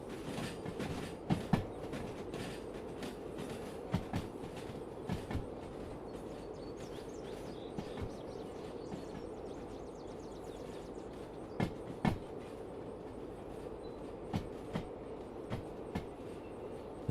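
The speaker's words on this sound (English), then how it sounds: "That's a lovely looking locomotive." Model railway locomotive running on a layout track, a low continuous rolling rumble with faint rhythmic clicks and occasional sharper clacks, fairly quiet and steady.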